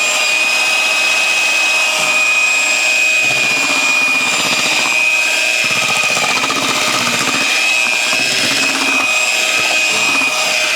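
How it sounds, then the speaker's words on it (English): A one-beater electric hand mixer whirs through carrot cake batter, a continuous loud motor whine with faint scraping underneath, steady and close with no voices. "we're using our one beater mixer, which works a lot better than a spoon"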